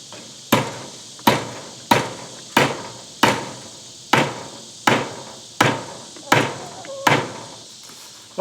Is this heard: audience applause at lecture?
no